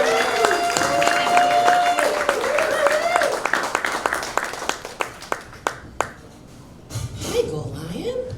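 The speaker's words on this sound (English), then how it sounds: "give us a round of applause for her." An audience at a comedy show at Gold Lion in Richmond, Virginia, applauds as a comedian comes to the stage. Dense clapping thins into a few scattered, sharp claps, and a voice then speaks over the room.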